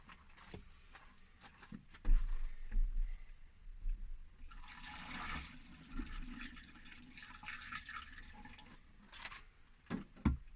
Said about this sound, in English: Just kidding, I'll get a watering can.